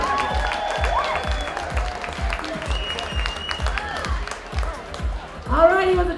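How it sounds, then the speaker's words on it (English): Guests at a soccer club's 30th anniversary dinner give a player a round of applause. Steady, moderately loud clapping fills the room while someone keeps talking over it, and a louder voice cuts in near the end. "A nice round of applause for number zero, Nick Barber."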